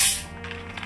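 Carbonated water is poured into a rose-flavored liqueur drink in a glass, a brief hissing spray at first, then soft fizzing and faint crackles close by, no speech.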